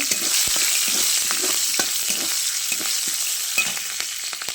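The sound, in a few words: green chillies frying in oil in a pan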